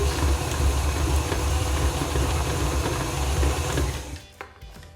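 An electric stand mixer beats buttercream icing made with softened margarine, giving a loud, steady motor whir with a churning rattle that runs continuously and then cuts off near the end, with no talking.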